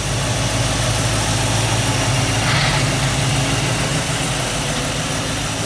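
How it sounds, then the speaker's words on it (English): A 1970 Ford Mustang Mach 1 with a 351 Cleveland V8 and full exhaust idles with a steady, throaty rumble, loud and close, running continuously without revving or voices. "321 Cleveland. Full master exhaust."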